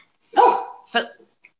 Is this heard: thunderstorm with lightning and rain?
no